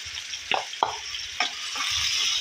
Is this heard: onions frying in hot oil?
yes